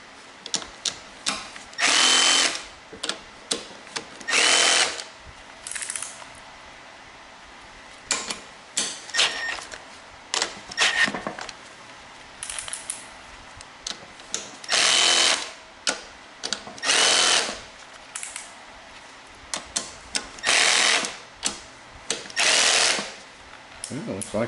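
A power tool tightens the carburetor bolts on a Honda engine from a Troy-Bilt machine, whirring in repeated short bursts of a second or two separated by quiet gaps, close and loud.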